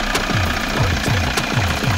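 A Toyota diesel engine runs nearby with a steady, rhythmic knocking clatter. The beat repeats evenly at a fast idle.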